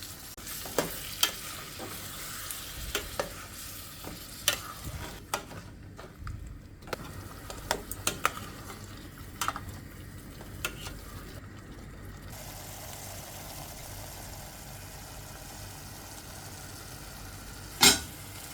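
Tomato puree frying in a pan of spicy Andhra chicken curry, a soft continuous sizzle with scattered clicks and light spoon scrapes, one sharp clank near the end, fairly faint and steady throughout.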